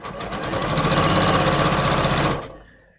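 A sewing machine with a wide zigzag foot and built-in walking foot stitches fabric in one steady, loud, fast-running burst that stops abruptly near the end.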